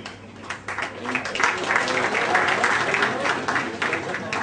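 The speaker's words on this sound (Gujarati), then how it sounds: "વિદ્યાર્થીઓ માટે તાળીઓ પાડો." An audience at a student recognition event bursts into sustained applause, dense clapping from many hands swelling and holding steady for several seconds.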